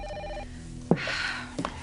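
A telephone rings in a television soap opera scene: a steady electronic trill, moderately loud, with brief thuds and clatter partway through.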